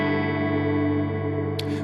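A Telecaster on its neck pickup plays through a BOSS GT-1000 patch with a compressor at the front of the chain, custom EQ and hall reverb, giving a sustained, dense, effected chord that rings steadily before a brief pick scrape near the end.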